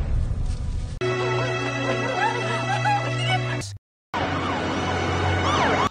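Ambulance siren in a Korean drama scene, a loud wailing tone running continuously behind street noise, broken by a brief cut to silence before resuming.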